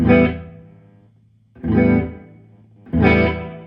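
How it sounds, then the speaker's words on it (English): Electric guitar played through a Carl Martin Headroom Mini reverb pedal on a room setting, three sustained strummed chords spaced apart, each swelling up and fading into a short roomy tail, loud and close with no talk. "This is like a room reverb"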